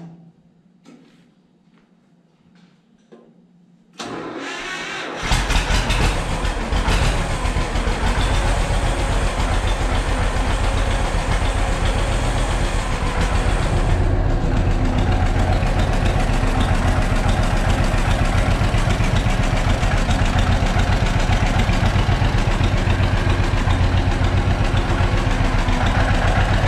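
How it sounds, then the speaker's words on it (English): A John Deere 520 tractor engine fires up after a few seconds of near silence, then idles loudly and steadily nearby with a continuous rough chugging rumble. "So I got the battery charger on this right now, so let's try to fire this up and take it out for a spin."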